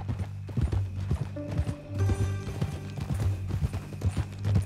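Horse hooves clip-clop in steady, close rhythm in Red Dead Redemption 2, a horse on a ranch trail with a brief whinny, over a low musical hum and no talk.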